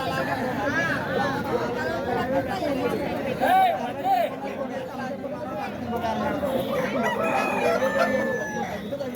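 Roosters crow repeatedly amid clucking fowl at a busy village country-chicken market, while people haggle and chatter nearby throughout.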